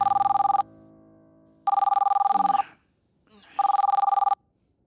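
An old telephone bell rings in three loud, evenly spaced bursts of rapid trilling, each lasting about a second, with brief silences between them.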